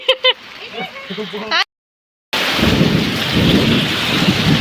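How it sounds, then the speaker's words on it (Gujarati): After a burst of voices and a brief gap, a heavy downpour roars steadily, with deep rumbles of thunder rolling underneath. "હવે ધોધમાર વરસાદ ચાલુ થઈ ગયો"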